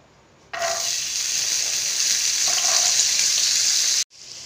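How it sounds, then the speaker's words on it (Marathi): Chickpeas fry in a couple of spoons of oil in a pan, a loud, close, continuous sizzle that starts abruptly and holds steady for a few seconds before cutting off, with no voices. "आपण हे छोले आता तेलामध्ये फ्राय करून घेऊ आपण।"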